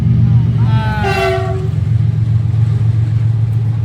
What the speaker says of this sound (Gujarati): તો જો ટ્રેન આવી ગઈ છે.